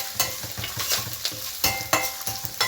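Peanuts, chana dal and urad dal fry in hot oil for rice flour upma, giving a steady dense sizzle broken by rhythmic stirring scrapes, close and without talk.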